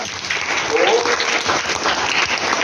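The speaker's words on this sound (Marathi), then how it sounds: "टाळ्या वाजवा एकदा." A school audience claps together at a Marathi children's literature convention held in a high school hall, a dense, steady wash of applause filling the moment with voices mixed in.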